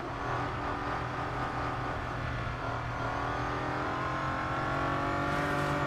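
A Mazda 787B race car in Real Racing 3 holds a steady, loud engine drone with shifting harmonic tones, revving and accelerating continuously without pause.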